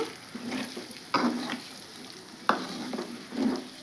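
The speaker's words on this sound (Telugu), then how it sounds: "మూడు గుడ్లు అయితే వేసాను కలుపుతున్నాను" Beaten eggs stirred into a sizzling pan for an egg and amaranth-leaf fry, with rhythmic spatula scrapes and knocks over a steady close frying hiss.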